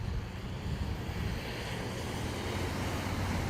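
Strong winds gust outdoors ahead of a snow and ice storm in Ontario, a constant rushing roar buffeting the microphone, loud and close with no voices.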